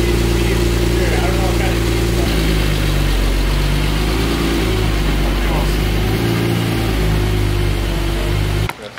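Car engine idling and running steadily at low speed while being backed up during a wash, a continuous low rumble close by, cutting off near the end.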